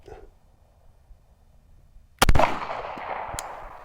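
A single sharp rifle shot cracks loudly at an outdoor shooting range, followed by a trailing echo and a faint second report, after a stretch of quiet low background noise.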